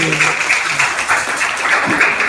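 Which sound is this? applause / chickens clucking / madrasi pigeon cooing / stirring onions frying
applause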